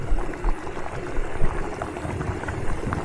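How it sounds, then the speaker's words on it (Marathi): Maggi noodles boiling in a pot of water, a steady low bubbling rumble with small pops throughout, close and moderately loud, no talking. "तर चला आपली मॅगी आता इथे बॉईल झालेली आहे"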